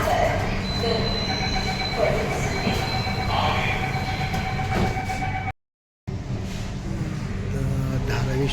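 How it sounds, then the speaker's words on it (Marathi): Mumbai Metro Aqua Line 3 train running underground beneath the Mithi River between Dharavi and BKC: a loud, continuous rumble with squealing wheels and a brief cut-out, and a voice talking faintly over it. "धारावी ते बीकेसी जे अंतर आहे ते मिठी नदीच्या खालून भूमार्गातून जाते गाडी"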